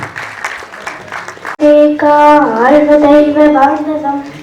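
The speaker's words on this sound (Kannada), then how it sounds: "ಆ ಪುಟಾಣಿಗೆ ಜೋರಾದ ಚಪ್ಪಾಳೆಯ ಮೂಲಕ ವೇದಿಕೆಗೆ ಆಹ್ವಾನಿಸೋಣ" An audience at a book launch in Bengaluru claps to welcome a young girl to the stage. A sudden burst of applause is soon overlaid by a sustained, tonal musical sound that dominates the rest.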